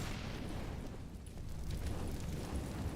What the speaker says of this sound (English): Grenade. Incendiary.